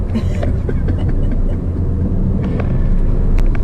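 A 2019 Toyota Corolla Hatchback with a 6-speed manual accelerates hard, giving a close, steady engine rumble and road noise throughout with no talking.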